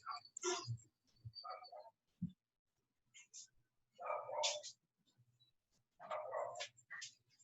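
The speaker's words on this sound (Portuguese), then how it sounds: "A minha cachorra vai latir um pouco" A small dog barks in several short bursts and yips, close by, with quiet pauses between the outbursts.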